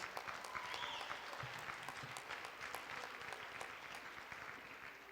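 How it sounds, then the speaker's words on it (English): An audience at a school Teacher Appreciation Day event applauds in a steady, even patter of clapping from many hands, heard from a moderate distance for several seconds. "Could we have a round of applause?"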